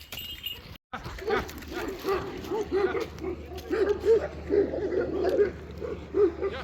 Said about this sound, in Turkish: Oo büyük kavga var arkadaşlar. Bizim köpekler değil komşularınkiler.